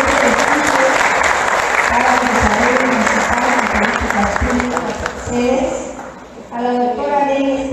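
Loud, sustained applause from a graduation ceremony audience, dense and continuous, with a voice talking over it throughout and the clapping thinning out toward the end as speech takes over.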